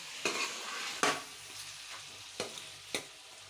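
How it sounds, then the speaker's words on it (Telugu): A spatula stirs curry leaves through hot oil in a frying pan while chicken biryani is being cooked, giving a steady sizzle broken by four sharp scraping strokes spaced irregularly across the pan. "మిక్స్ చేసుకుందాం ఇదిగోండి చూస్తున్నారు కదా ఈ విధంగానే కలుపుకోండి"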